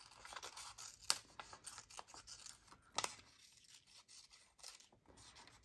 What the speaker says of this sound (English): I'll cut around the outside and I'll only cut the inside if I think it's going to work.